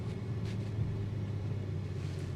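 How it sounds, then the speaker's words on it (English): A 2026 BMW X3 M50 sport SUV rumbles with a low, steady exhaust drone from inside the cabin, faint crackling burbles mixed into the continuous engine noise. "You get the burbles that come in."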